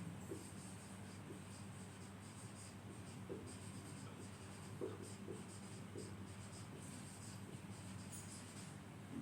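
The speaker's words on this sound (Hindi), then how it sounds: "हेडिंग लिख दे रहे हैं" A heading is written on a board during a chemistry lecture, producing soft repeated tapping and scratching strokes over a steady hum of room noise.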